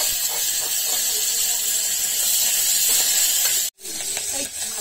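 Curry leaves and fresh coriander hit hot oil with roasted garlic, giving a steady, loud, close hiss of sizzling that runs without a break, then briefly cuts out before it starts again.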